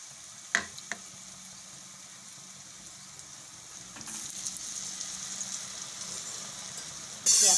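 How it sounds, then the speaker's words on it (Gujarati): Cold roti cones fry in hot oil, a soft steady sizzle that starts quiet and grows louder as more pieces go in, ending with a sharp burst of bubbling, with no talking. "2-3 જે આવે એ પ્રમાણે આપણે તળવાના."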